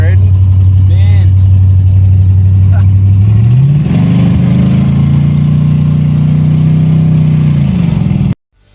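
A Lincoln car engine runs steadily, a low hum that rises in pitch partway through as it picks up speed while cruising, then cuts off abruptly near the end.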